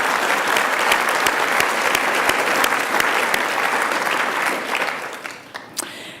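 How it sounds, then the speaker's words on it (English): Loud, sustained applause from a gala audience at a climate leadership event, dense clapping that fills the room, then thins and tapers off toward the end with a few scattered late claps. "Now, that's worth applauding"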